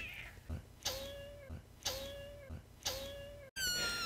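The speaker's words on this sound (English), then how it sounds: "That sounded like a cat meowing." A cat in the DOOM video game meows three times in a regular rhythm, each a clear rising-then-falling cry about a second apart, followed by a brief higher squeal, over quiet background noise.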